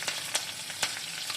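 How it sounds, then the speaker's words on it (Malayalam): Curry leaves, garlic, ginger and green chilli frying in oil for a lemon and date pickle, a close, steady sizzle with a few sharp stirring scrapes, no one talking. "കറിവേപ്പില, വെളുത്തുള്ളി, ഇഞ്ചി, പച്ചമുളക് അതൊക്കെ നന്നായിട്ട് മൂപ്പിക്കട്ടെ കേട്ടോ"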